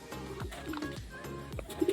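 Racing pigeon cooing during north race training in Meycauayan, Bulacan: low, soft coos repeat in a loose rhythm over a steady background hum, ending with a slightly louder burst of calls close by.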